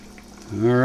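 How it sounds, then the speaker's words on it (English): Pulled pork liquid bubbling in a covered pot over a kerosene stove, a soft steady simmer that swells louder and brighter as the lid comes off, rising into a rich rolling boil up close. "It's a bubbling away, and it's fogging up the camera."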